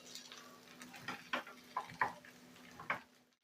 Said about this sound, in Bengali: একটু সরষের তেল আর এই ডিম সেদ্ধটা দিয়ে ভালো করে নেড়ে নিতে হবে।